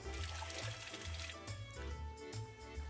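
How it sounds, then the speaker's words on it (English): Hands washed under a running kitchen tap during apple cake baking, a steady splashing stream with rhythmic low sloshing as the hands move through the water, close and full. "We need to wash our hands."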